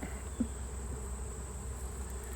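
Honeybees buzz during an inspection of combined hives, a steady, quiet drone close by with a small bump partway through.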